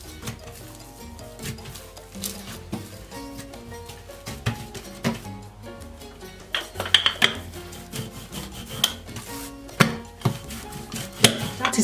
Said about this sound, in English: So I have to knead it again for like 3 to 4 minutes